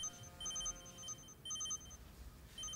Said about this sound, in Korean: 두수의 전화벨을 들은 선아가 에란에게서 온 전화를 확인하고